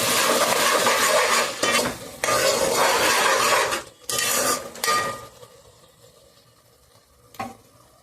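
Tomato and a spice mix fry together for a chicken curry, loud sizzling and stirring scrapes in bursts that break off and give way to quieter sizzling, with one clink of a utensil late on.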